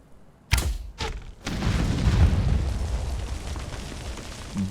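Explosive jars detonate against a wall in a video game: two sharp blasts are followed by a heavy, sustained rumbling boom as the wall gives way.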